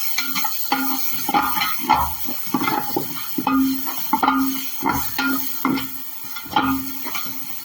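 Ginger paste and garlic cloves frying in a pan while being stirred for goat head curry, with repeated scraping strokes of a spoon against the pan over a soft sizzle, close and alone.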